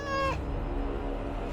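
A cat meows once, loud and close, in the video game Dragon Age: Awakening, followed by steady game ambience.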